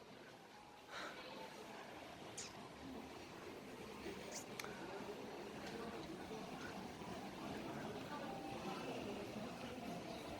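A subway train rumbles steadily throughout, with a broad low roar and occasional faint squeals and clicks from the carriage.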